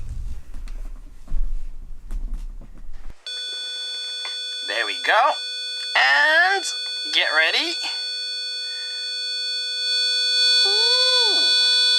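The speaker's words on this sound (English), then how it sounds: "So that will be a 500 hertz tone." A 500 Hz square-wave tone from an Arduino pin, played through an amplifier, cuts in abruptly a few seconds along and holds as a steady, loud, harmonically rich buzz to the end while a person talks over it.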